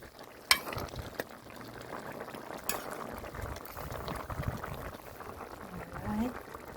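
Jamaican stew peas with pigtail simmer in a pot, a low continuous bubbling and gentle liquid burble close by, with a sharp clink near the start and faint voice-like sounds in the background.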